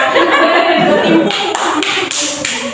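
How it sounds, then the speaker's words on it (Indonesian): Classroom audience clapping during a microteaching practice lesson, a short burst of mixed taps and claps with voices and light chatter over it, getting sparser toward the end. "Tepuk tangan dong"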